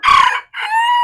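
A pet chicken crows loudly and close by, one hoarse call broken by a brief pause and then a drawn-out, wavering finish.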